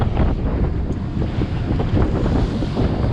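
Steady wind roaring across a boat at sea with short choppy swell and whitecaps, heavy buffeting on the microphone, loud and constant, with no talking.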